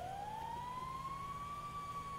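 A single emergency vehicle siren tone in the video game EmergeNYC rises smoothly and holds steady, a sustained wail over a low rumble with no voices.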